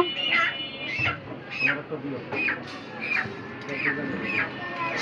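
Birds give a run of repeated squawking, crow-like calls, roughly one every second, close and fairly loud, with voices talking around them.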